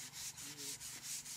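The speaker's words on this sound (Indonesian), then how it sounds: "Setelah kering, kemudian dirapikan dengan amplas." Sandpaper rubs rhythmically over a dried pelantan wood boat miniature, about five close, soft back-and-forth strokes in quick succession.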